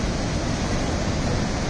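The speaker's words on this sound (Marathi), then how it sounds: "एकदम खवळलेला आहे समुद्र एकदम ना" Rough, churning sea surf at Vagator beach in Goa during rain, a dense, loud, continuous roar of breaking waves close by with no voices.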